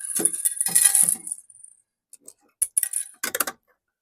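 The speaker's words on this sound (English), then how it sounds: "you put the coin in, makes a noise" Coins clink and rattle inside a claw machine in a few short metallic bursts, separated by brief silences.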